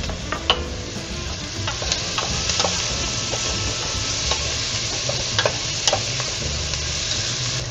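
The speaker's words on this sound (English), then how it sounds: "Our onions are starting to get soft, and now I'm going to add in the garlic and the bay leaves." Onions sauté in a pot for caldo verde, giving a steady frying sizzle throughout, with occasional clicks and light scrapes of stirring.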